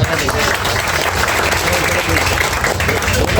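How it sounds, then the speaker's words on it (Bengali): A crowd at an indoor iftar gathering claps for Liaquat Ali, steady dense applause from many hands lasting a few seconds, with voices mixed in. "লিয়াকত আলী ভাইয়ের জন্য একটি তালি হোক"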